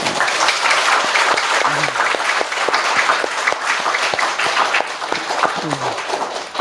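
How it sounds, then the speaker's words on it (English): Steady, dense applause from a large audience at a 2009 gathering in France, continuous clapping throughout with faint murmurs from the crowd. "You should applaud them, yeah?"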